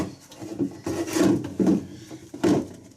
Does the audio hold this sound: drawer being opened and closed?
yes